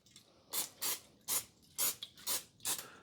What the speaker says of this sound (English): Next, I'm going to spray my baking dish with a little Pam.